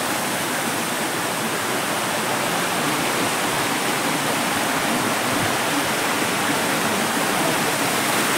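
Water flowing from a natural spring near a village temple in Dabhol, Konkan, heard as a loud, steady broadband rush with no breaks and no voices.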